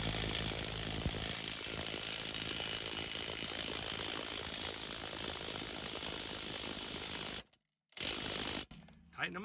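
A ratchet tightens the strut tower bolts on a Saturn Vue during strut replacement, clicking steadily and loudly for several seconds, then stopping briefly before a final short burst.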